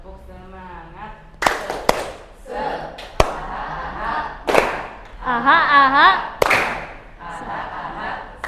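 A classroom group performs the tepuk semangat clapping chant: bursts of sharp claps break up chanted voices, with a teacher's voice leading and speech running through the whole routine.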